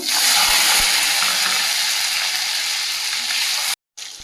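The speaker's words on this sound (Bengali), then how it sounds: "টমেটোটা ভাজা ভাজা হয়ে গেছে" Chopped tomato frying in hot oil in a wok with cardamom and a piece of cinnamon, giving a loud, steady, close sizzle that runs unbroken before a short cut-off near the end.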